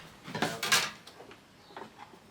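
A few sharp knocks of a chisel chopping into wood while a saw till is made, with two strong strikes close together and then lighter taps trailing off, no voices.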